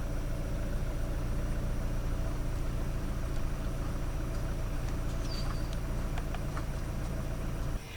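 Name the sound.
Hyundai 2.5T car engine idling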